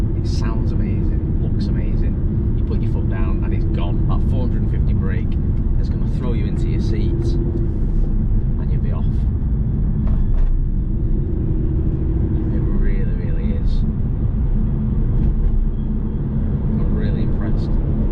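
Aston Martin DB9 Volante engine accelerating, a loud steady low rumble from inside the car that runs throughout, with someone talking over it.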